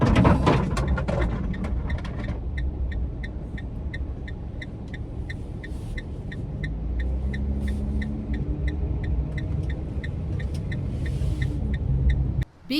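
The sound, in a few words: car driving on the road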